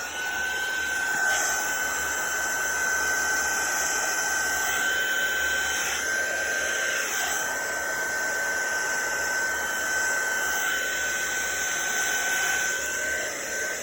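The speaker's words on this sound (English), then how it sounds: "Now I'm going to use my heat gun" A heat gun blows continuously while drying watercolour paint on card, a steady whooshing blast with a high whine that holds evenly for the whole stretch and carries no talk.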